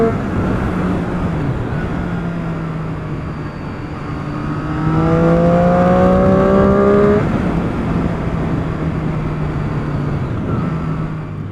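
Triumph Street Triple 675 engine on a test ride, a steady close drone that rises into a stronger rev as it climbs through the gears and then settles, with continuous wind and road noise behind it.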